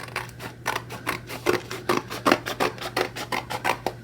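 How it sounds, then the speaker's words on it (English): Scissors snip through a coloring book's front and back covers where they meet a sticky spine, a steady series of about a dozen close, crisp cuts with a faint steady hum underneath. "I'm going to cut the front and back cover off of that sticky spine"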